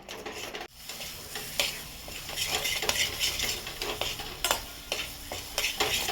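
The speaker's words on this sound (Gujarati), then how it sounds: "અહીંયા સક્કરિયા હું શેકી લઉં" Sweet potato roasting in ghee in a pan, producing a continuous crackling sizzle broken by sharp clicks and clatter of a utensil against the pan, close up and without speech.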